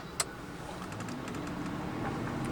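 Steady, muffled road and engine drone inside a Mercedes 600SEL with an M120 V12 cruising, with a single sharp click near the start.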